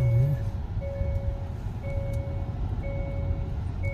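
A truck maneuvers nearby, sounding repeated reversing beeps in regular evenly spaced pulses over a low engine rumble, moderately loud, with no talk heard.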